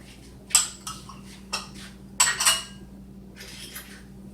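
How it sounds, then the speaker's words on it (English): A whisk clinks against a bowl of flour, baking powder, salt and sugar in a home kitchen: several separate metallic taps and scrapes, close and fairly quiet, over a low steady hum. "And I'm just going to whisk those together."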